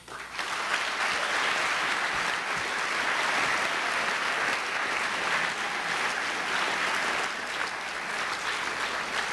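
An audience at a 2013 NCAA signing day ceremony gives the faculty a long, enthusiastic ovation, loud continuous clapping filling the room from start to finish.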